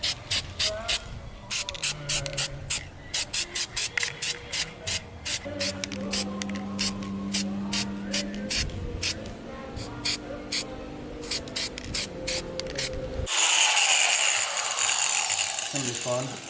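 Steel It coating hissing from an aerosol spray can during a King Bumps install on a Nissan Frontier, in repeated short bursts amid ratcheting and mechanical clicks, ending in a louder continuous spray hiss.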